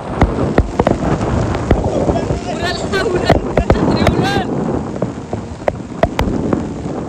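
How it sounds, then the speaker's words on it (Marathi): Steady rain patters throughout, with scattered sharp drop hits, while people talk over it now and then. "सो पाऊस बघा आणि कंटिन्यू पाऊस आहे"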